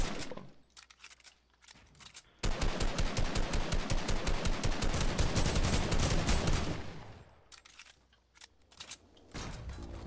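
Video game gunfire: scattered single shots open, then a long loud burst of rapid automatic fire, followed by a pause and a few more sporadic shots nearby.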